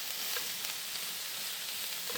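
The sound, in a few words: vegetables for spring rolls stir-frying in a wok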